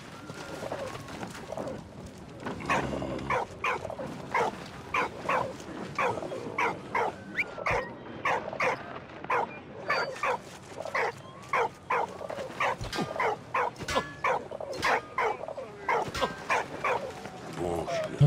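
A dog barks repeatedly in the World War I video game Valiant Hearts, with short, evenly spaced yelps close by that run steadily through the whole stretch, while someone talks over them.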